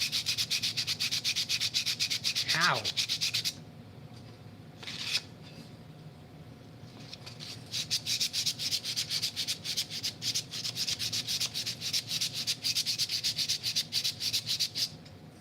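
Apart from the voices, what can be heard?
sanding wood while making a puzzle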